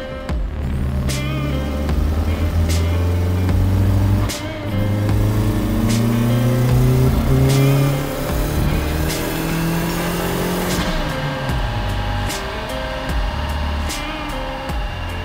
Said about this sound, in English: now that we've got that dyno run done